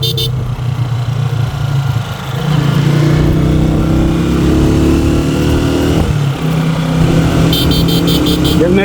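A motorcycle engine drones loudly and steadily along a rural road past paddy fields, its pitch shifting slightly as it rides, with wind rush over the microphone throughout.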